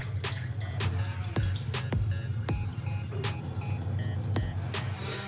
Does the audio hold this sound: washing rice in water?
yes